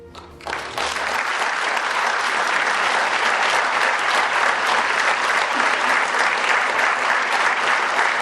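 A gala audience breaks into loud, sustained applause that swells within the first second and holds as a dense, even wash of clapping across the room, with no voices breaking through.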